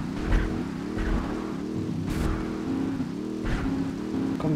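A car engine in GTA 3 revs and accelerates in repeated rising surges, a steady mechanical drone climbing in pitch over and over.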